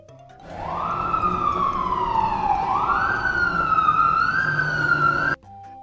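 A fire engine siren wails loudly and steadily, sliding down and then climbing again in a long sweeping tone for about five seconds before cutting off abruptly.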